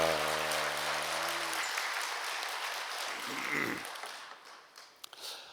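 Church congregation applause of blessing during a special dawn prayer meeting at a Methodist church in Gangneung, a broad clapping wash following a sustained tone, fading and thinning toward the end with a few scattered late claps.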